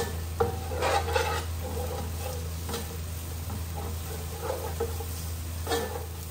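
Garlic and onions sauté in a pan for chicken feet and neck adobo, a steady sizzle under repeated stirring scrapes and light clinks of a utensil against the pan, close by.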